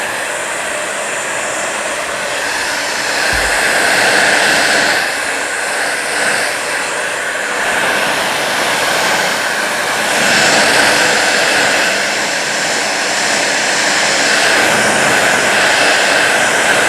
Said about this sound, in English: I don't have the heat on, just fan only.